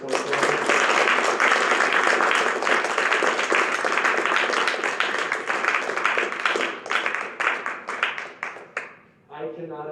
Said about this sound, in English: let's give a round of applause to our captains for 2020